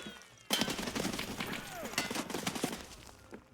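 Gunfire erupts in Escape from Tarkov, a sudden loud burst followed by rapid overlapping shots and echoing reports over several seconds, with a voice briefly audible underneath.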